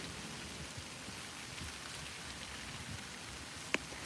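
Steady scattered rain falls in an even, continuous hiss with a single sharp tap near the end, with no voices over it.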